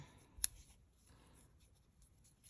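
A single crisp snip of scissors cutting through Petunia Pop ribbon, quick and faint in a quiet room, with nothing else around it.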